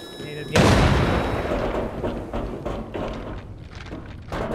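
Grenade blasts in the shooter Arena Breakout Infinite: one loud, sudden boom that rings out and decays, then a string of lighter thuds and gunshot-like bursts that follow for a few seconds.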